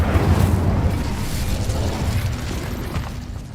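An Incendio fire spell from a video game blasts out as a loud, sustained roaring whoosh of flame that holds steady and then slowly eases off.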